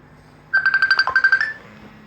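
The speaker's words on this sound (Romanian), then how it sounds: "Da, mă sună prietenul meu." A phone ringtone for an incoming call plays as a quick run of bright, pulsing chime notes for about a second during a Minecraft PE gaming session, clear over a quiet background hum.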